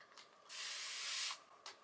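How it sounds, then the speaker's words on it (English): Continuous-mist spray bottle spraying hair: one long, steady hiss lasting under a second, with brief faint puffs before and after, close and soft. "when you spray, it has such a long one press,"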